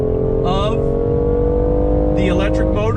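A 2019 BMW i8 Roadster, a hybrid with electric motors and a turbocharged inline three-cylinder, pulls hard on throttle, a loud steady engine drone with rising whine heard from inside the cabin under someone talking.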